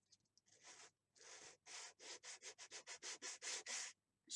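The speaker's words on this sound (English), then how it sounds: "take a piece of sandpaper. We're going to keep it as level as possible and go back and forth" Sandpaper rubbed back and forth across the root edge of a model rocket fin, a close, rhythmic series of about a dozen raspy scraping strokes that quicken toward the end, with no talk.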